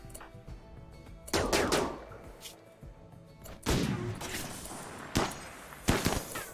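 Defensive turrets in RimWorld firing several separate bursts of gunfire, moderately loud, spaced by short quiet gaps over a low background.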